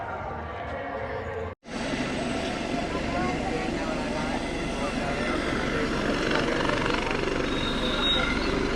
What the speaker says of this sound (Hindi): उनके इस हेलीकॉप्टर ने अब उड़ान भर ली है